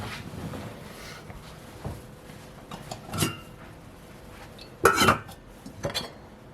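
Metal clatter and clinks of a cooking pot being handled and set down, in a few scattered bursts against a quiet room.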